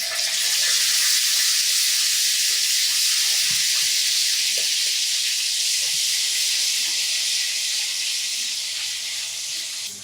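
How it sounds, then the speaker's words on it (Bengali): Garlic paste frying in hot oil for a raw mango and garlic pickle, a steady, loud sizzling hiss that holds close and continuous throughout, with faint utensil clicks and no talking. "এটাকে হালকা করে ভেজে নিব। এরপরে দিয়ে দিব 1 চামচ রসুন বাটা"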